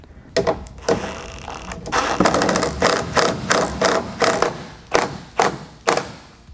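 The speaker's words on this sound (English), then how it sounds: "at this point, we can throw our bolts back in" Bolts being put back into a Ford F-150 taillight: a run of close metallic clicks, rattles and ratcheting bursts in uneven rhythm, with a few sharper knocks near the end.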